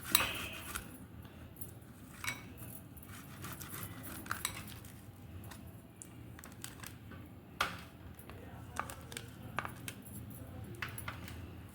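Potato scraped over a metal grater for a dhaba-style aloo paratha, steady rasping strokes with occasional sharp metallic clinks, close and moderately quiet, no talking.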